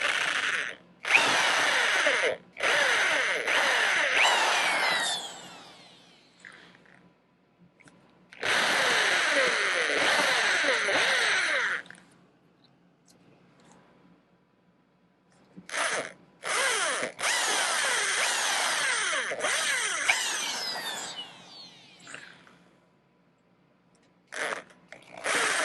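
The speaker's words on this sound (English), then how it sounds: "it really makes it a lot easier if you drill down into the punch marks" A power drill bores into metal at punch marks on a staked part, sounding in three long, loud whining runs separated by pauses and short bursts, close up with no talk.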